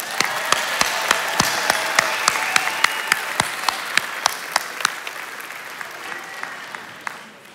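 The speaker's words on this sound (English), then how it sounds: "Let's give another round of applause to these alumni." A crowd at a community college commencement applauds with scattered distinct claps standing out over steady clapping that gradually fades toward the end.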